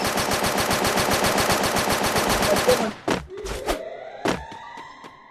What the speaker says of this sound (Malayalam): വെറുതെ 4 വെടി മേലോട്ട് വെച്ച് നോക്കും.